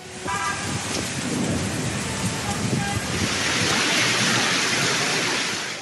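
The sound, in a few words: heavy rain and thunderstorm in Islamabad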